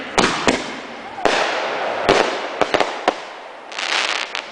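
Fireworks bursting nearby, with several sharp loud bangs and long crackling, hissing stretches between them, close and forceful, and occasional voices in the background.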